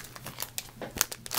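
Decorative craft paper for Halloween cards crinkles and rustles as it is handled, a quick run of soft close crackles over about a second and a half.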